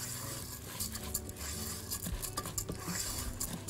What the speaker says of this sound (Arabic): تقليبة واحدة، أغلف الرز بالزيت والزبدة